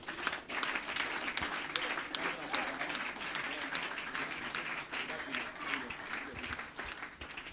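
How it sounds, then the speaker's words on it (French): A church congregation applauds continuously, dense clapping from a crowd filling the room at steady loudness throughout, with voices mixed in beneath it. "j'aimerais aussi qu'on acclame pour notre père et notre maman spirituelle, le prophète Samuel."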